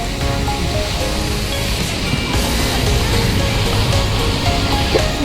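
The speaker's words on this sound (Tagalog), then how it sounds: "Oh, ang dagat." Sea waves wash against the shore at Marina Bay, Singapore, at night, with a steady, loud roar of surf and broadband water noise, and no clear voices on top.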